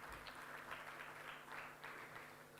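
Audience applause at an arbitration council event on Indo-UK commercial disputes, a fairly faint, steady patter of many hands clapping with a faint background hum.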